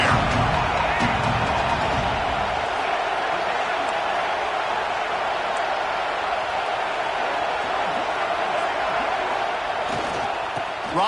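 A college football stadium crowd roars in a steady, loud wash of cheering and noise throughout, with a commentator's voice over it.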